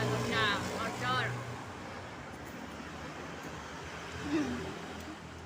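Roadside traffic of cars and motorbikes next to a street-side meatball stall, a low continuous rumble of passing engines under brief nearby speech, moderately faint and steady throughout.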